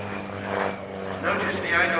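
Propeller aircraft flying in mirror formation, one inverted above the other, at an evening air display at Shuttleworth, a steady engine drone rising and falling as they pass, with a commentator talking over it throughout.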